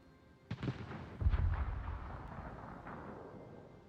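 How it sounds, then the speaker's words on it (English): Naval gunfire and shell hits in World of Warships, a sharp boom followed by a heavy low rumbling explosion and a fainter later blast, at moderate volume, with no talking. "Here comes some Loria shells"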